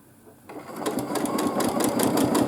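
Free-motion quilting on a sewing machine starts after a quiet moment and settles into a fast, steady, close rhythmic chatter of the needle that continues to the end.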